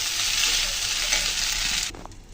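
Pasta being stirred and fried in a pan, a steady loud sizzle with faint scraping that runs nearly throughout before dropping away near the end.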